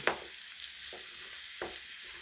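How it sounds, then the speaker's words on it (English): Vegetable curry being stirred in a pan, a few separate scrapes and knocks of the spoon against the pan spaced out over a soft, steady background hiss, fairly quiet. "Just give it one more stir around before I cover"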